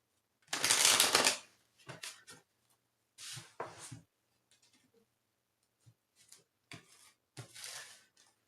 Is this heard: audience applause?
no